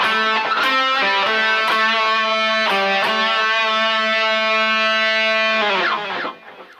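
Distorted electric guitar solo in A Dorian: a sustained, heavily overdriven lead with bright harmonics and quick picked note changes, loud and alone before fading out at the end.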